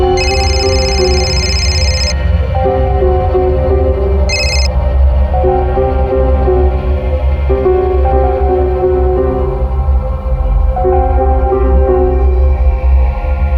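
A telephone rings in a tense TV crime drama scene, two short bright electronic bursts heard over a steady, loud background music score.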